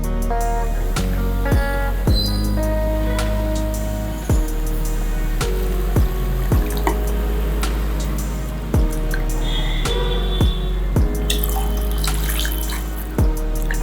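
Water from a tap runs into a vessel of soaked, drained basmati rice mixed with masala for Tamil-style kuska, a steady pouring stream punctuated by several sharp clinks and knocks of utensils, with no talking.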